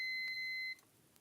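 A Cyberpower uninterruptible power supply gives a single sustained electronic beep lasting most of a second, close and clear over a quiet room, then stops, leaving faint background hiss.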